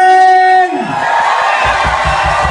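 A live concert crowd at a party show roars and cheers wildly after a sustained tonal note fades, the broad wash of voices loud and close with some shouting bursts.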